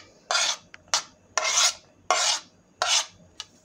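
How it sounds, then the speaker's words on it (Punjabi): Chopped vegetables, including sweet corn, onion, capsicum and tomato, being mixed for bread pizza, five rhythmic scraping strokes of a spoon against a bowl, loud and close, with no voices. "ਸਬਜ਼ੀਆਂ ਨੂੰ ਆਪਾਂ ਮਿਕਸ ਕਰਦੇ ਹਾਂ।"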